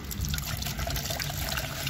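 Water trickling and pouring through a small wetland watershed model, a soft continuous splashing dribble heard close up at low volume.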